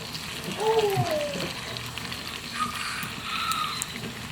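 Butter melting and being stirred in a cooking pan gives a soft, steady sizzle with faint scraping, running quietly throughout.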